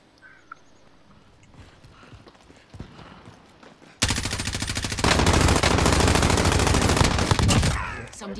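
Sustained automatic gunfire in the video game Call of Duty Warzone, a loud, dense rattling burst lasting several seconds after quieter background game sounds, with no talk over it.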